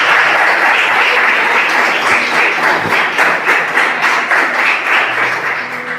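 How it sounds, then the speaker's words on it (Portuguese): A church congregation applauds for Jesus, a loud, dense and steady round of clapping from many hands filling the room for several seconds. "Palmas para Jesus."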